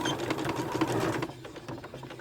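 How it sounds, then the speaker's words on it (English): A sewing machine stitches a homemade fabric face mask with elastic, running loud and close in a steady whirring burst that slows and thins toward the end. "we're just going to start with a locking stitch back and forth"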